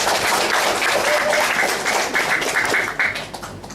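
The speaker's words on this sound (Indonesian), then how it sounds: "Dengan aplaus dulu" Applause from an audience at a student drama performance, a dense steady wash of clapping that holds loud for several seconds before thinning out toward the end.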